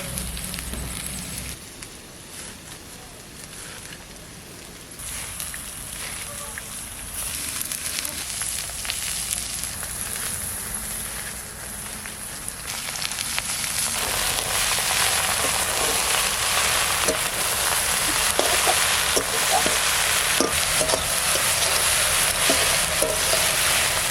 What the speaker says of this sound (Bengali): ওই দেখেন পেঁয়াজটা কি সুন্দর ভাজা হয়ে গেছে।